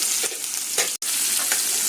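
Onions frying in a non-stick pan with whole spices like cardamom, cloves, cinnamon and bay leaf, giving a loud, steady hiss and crackle broken by a few stirring scrapes and one brief dropout.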